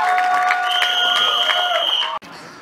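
A crowd at a Marathi film trailer launch cheers and claps loudly, while a prominent voice or tone rides on top of the noise before it cuts off abruptly.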